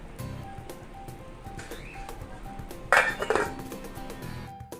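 A lid set onto a cooking pot of boiling chicken and corn, giving a sharp metallic clatter and a few settling clinks up close, over faint kitchen background noise.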